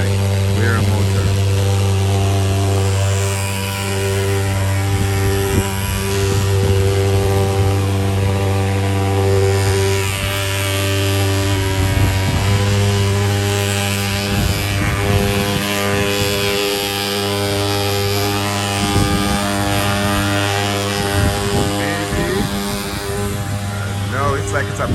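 Motorized mosquito fumigation fogging machine running steadily with a loud, droning engine hum and rich tonal harmonics, continuous throughout, with voices talking over it.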